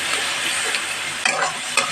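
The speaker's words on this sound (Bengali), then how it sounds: "দিয়ে মশলাটা ভালো করে কষিয়ে নেব" Spice paste masala for a soya curry is stirred and fried in a pan, giving a steady close sizzle broken by a few sharp scraping clacks of the spoon against the pan, with no talk.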